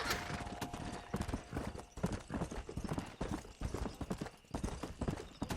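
A horse's hooves clip-clop steadily in Red Dead Redemption, loud, close and continuous with a brisk, uneven trotting rhythm throughout.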